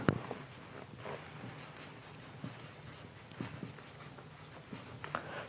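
A pen scratches across paper while an accounting problem is worked, with quiet, close, irregular strokes and small taps, and no speech.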